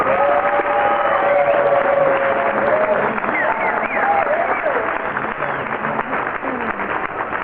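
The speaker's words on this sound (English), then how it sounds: "Give them one more applause before you go." Audience at a middle school band concert gives a steady, full round of applause and some cheering in a hall, sustained and fairly loud throughout, with a voice and crowd murmur mixed in.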